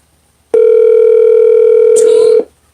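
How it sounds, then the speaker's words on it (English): A loud, steady telephone dial tone sounds as a call is placed, holding one unbroken pitch for about two seconds after a short quiet start, then cutting off cleanly. "We're gonna give you a call."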